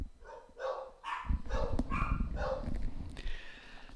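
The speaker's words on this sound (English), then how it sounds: "Hey, dogs! Dogs!" Several dogs bark in a quick, loud series of yaps close by, with a rough, rumbling background running under the later barks.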